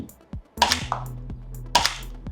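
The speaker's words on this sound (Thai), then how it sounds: "ลองยิง M18 นะครับ" A UDL P320 M18 electric gel blaster pistol fires two sharp, close shots about a second apart, each snap followed by a short mechanical whir of the motor.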